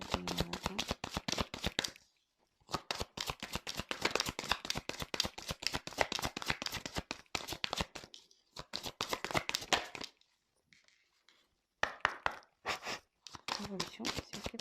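Tarot cards being shuffled, riffled and drawn in quick, dense bursts of papery flicks, with short pauses between handfuls and a voice speaking over parts of it.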